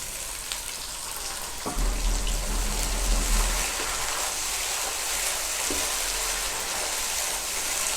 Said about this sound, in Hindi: फिर इसमें थोड़ा सा पानी ऐड करेंगे।